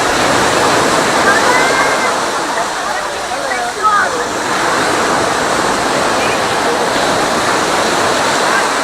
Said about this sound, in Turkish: Bugün Mahmutlar sahilindeyiz.